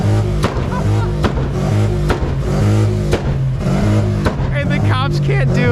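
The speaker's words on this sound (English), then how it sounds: "So this is a Harley Davidson" Harley-Davidson motorcycle engine idling and revving at a busy Dallas street car meet with police present, a steady loud throb rising in short blips, with voices and crowd noise around it.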